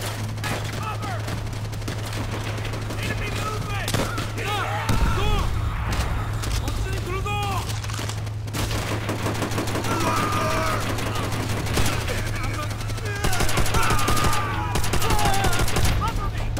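Rapid rifle and machine-gun bursts rattle through a Call of Duty: World at War battle, including an M1 with grenade launcher, with dull booms and shouting voices mixed into the dense, continuous gunfire.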